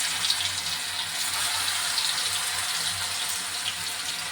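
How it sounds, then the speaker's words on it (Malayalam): Pieces of fish dropped into well-heated cooking oil to make a fish fry give a steady, close, dense sizzling hiss that holds evenly throughout with no talking. "നമുക്കിനി നമ്മളെ മീനിട്ട് കൊടുക്കാം."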